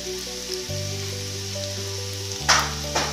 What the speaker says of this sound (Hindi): अच्छे से फ्राई करके और इसकी स्टफिंग तैयार कर लेंगे